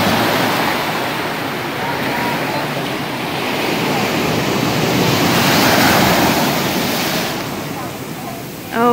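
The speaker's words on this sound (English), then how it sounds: "Oh no, I know those waves are gonna get bigger." Ocean waves break on the beach at Balboa Peninsula, Newport Beach, California, with a loud, continuous surf roar that swells and recedes, along with some wind buffeting the microphone.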